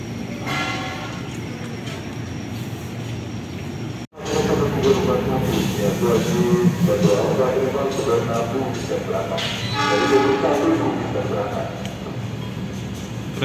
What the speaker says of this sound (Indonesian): Kereta Argo Bromo Anggrek berjalan langsung stasiun Manggarai.